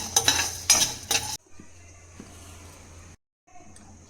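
Grated coconut and sesame seeds roasting in a pan on a low flame: a few quick, scraping stirs up front, then a quiet, soft sizzle with brief pauses, and a voice speaking.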